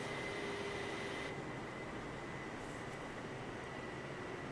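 Air Force One taxiing at Duxford in Microsoft Flight Simulator 2020: a faint, steady jet engine drone with a thin high whine holds constant throughout, distant and even, with no voices.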